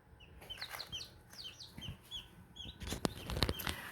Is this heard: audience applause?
no